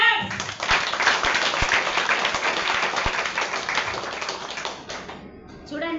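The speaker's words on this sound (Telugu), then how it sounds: "తల్లులందరికీ గట్టిగా క్లాప్స్" An audience in a meditation class claps loudly for all mothers: dense, steady applause close by for about five seconds, thinning out near the end, with a voice briefly audible.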